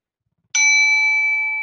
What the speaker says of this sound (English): mindfulness bell